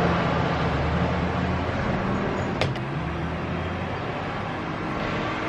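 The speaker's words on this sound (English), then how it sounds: "Wow, that's a loud truck outside." A loud truck rumbles past outdoors, a steady low heavy drone filling the whole stretch with a brief sharp clank midway, heard from indoors with no talking.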